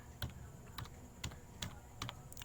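Keys tapped on a computer keyboard in a short, uneven run of distinct clicks, each keystroke close and crisp, with no one talking.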